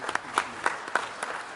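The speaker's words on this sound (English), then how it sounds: "Please give him a big applause." Applause for a panelist at a business forum at a hotel in Sarajevo, thin and scattered, with a few distinct claps rising above a faint background over little more than a second.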